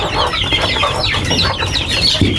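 Chicks crowd together while being fed, giving a dense, continuous chorus of close clucking and chirping calls with no talk over it.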